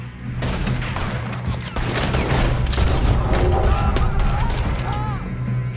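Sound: gunfire in the video game Red Dead Redemption 2

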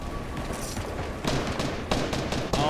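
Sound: gunfire in Fortnite video game

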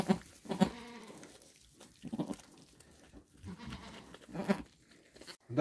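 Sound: newborn goat kid bleating

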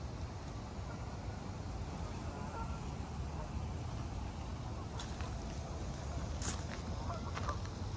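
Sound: Canada geese honking

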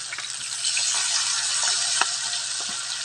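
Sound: garlic frying in oil with oarfish

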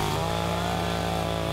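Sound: chainsaw cutting through a stack of pancakes

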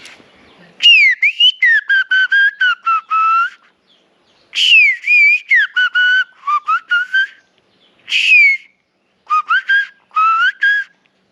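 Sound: whistled imitation of bird calls

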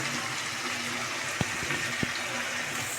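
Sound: water poured into a pan of mixed vegetable curry

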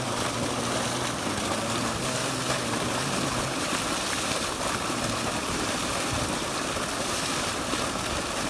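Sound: motor-driven tubewell pumping flowing water

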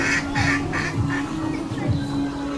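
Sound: ducks

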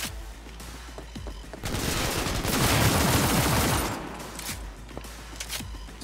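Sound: pistol gunshots in video game Cyberpunk 2077

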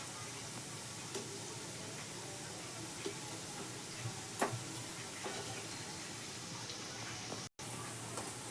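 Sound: balushahi frying in oil

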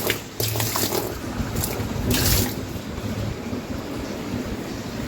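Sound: washing machine part being rinsed with water

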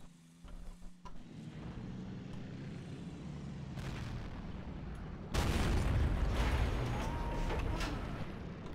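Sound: tank gun firing in World of Tanks video game

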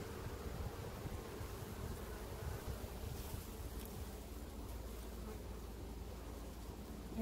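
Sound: honey bees buzzing at an open beehive

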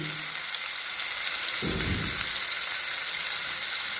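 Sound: whole cauliflower frying in oil

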